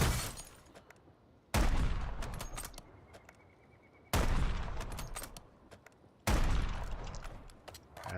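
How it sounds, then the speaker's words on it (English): Gunfire between two squads in the video game Call of Duty: Warzone: three sudden loud bursts of shots, each trailing off into a rattling, echoing decay, with no talk. "2 other squads, 4 people. They're shooting at each other."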